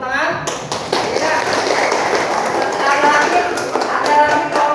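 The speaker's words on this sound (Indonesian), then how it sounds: "Kita kasih tepuk tangan" Classroom applause for a group's answer: steady hand clapping from a group of students fills the whole stretch, dense and sustained at moderate loudness.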